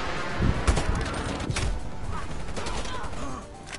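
Sniper and rifle fire crackle across a Call of Duty Cold War multiplayer match, sharp repeated shots coming from several directions over steady game noise, with a player talking now and then.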